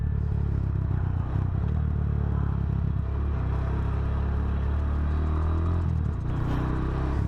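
A Motorstar Explorer 250 v2 motorcycle's engine rumbles steadily while riding and turning, a low continuous drone with some clatter and wind noise and no speech.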